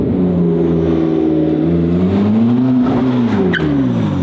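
A McLaren MP4-12C engine revs loudly and close, its pitch rising and falling in smooth sweeps over a constant roar, with a thin high whine entering near the end.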